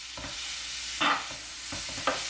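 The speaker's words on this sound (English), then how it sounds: "Just gonna toss it a bit, leave this to fry" Rapini frying in oil and garlic in a pan, a soft steady sizzle broken by a few brief scraping tosses of the greens, close and moderately quiet.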